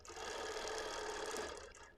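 BERNINA Q-Matic computerized quilting machine stitching, a steady close whir of rapid needle strokes lasting about two seconds, loud and alone before tapering off.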